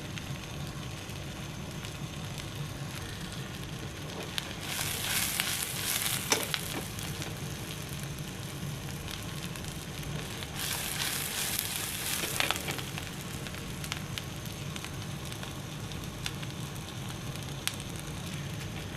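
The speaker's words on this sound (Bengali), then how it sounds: "অনিয়নটা আমরা একটু হালকা ফ্রাই করে নেব।" Chopped onion lightly frying in a pan sizzles steadily throughout, with two louder bursts of crackling hiss partway through, close up and without talk.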